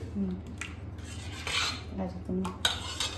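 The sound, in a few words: mixing rice flour batter in a bowl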